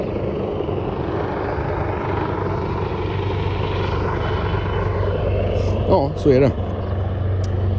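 A helicopter drones steadily overhead above a beach promenade with police and boats nearby, a loud continuous rotor and engine rumble filling the whole clip while someone speaks briefly near the end.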